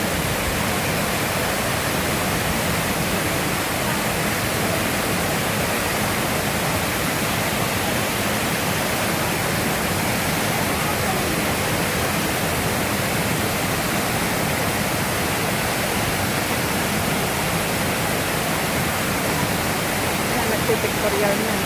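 Rushing water from Silvermine Waterfalls in Mui Wo pours in a dense, unbroken roar, loud and close, filling the scene without pause throughout.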